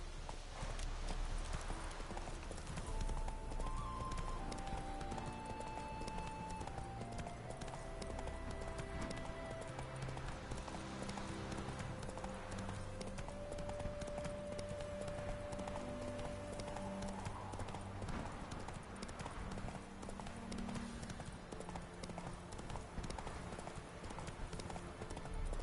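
A horse gallops in a PS4 video game, with continuous rhythmic hoofbeats and an occasional whinny running for the whole stretch under steady game music.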